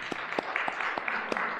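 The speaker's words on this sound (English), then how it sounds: "Give him a clap." A church audience gives a short, light round of clapping during a Sunday sermon, scattered individual claps over a soft crowd wash, fairly quiet and brief.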